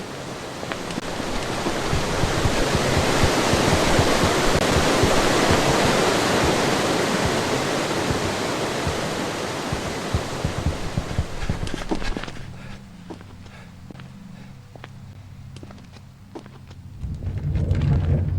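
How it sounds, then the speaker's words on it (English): Water rushes steadily and loudly in a dark room in the video game Shadow Corridor, a dense broadband roar like a waterfall that drops away after about twelve seconds, leaving faint ticks and a low rumble before swelling again at the end. "And there's water in this room right now, but you need to drain it."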